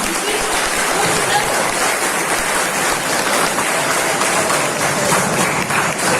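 A large audience at a business program event applauds steadily and loudly for their seniors, a dense sustained clapping that fills the room.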